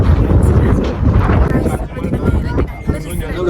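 Strong wind buffets the microphone on a hilltop at Attappadi, a loud rumbling gust that continues under a person talking.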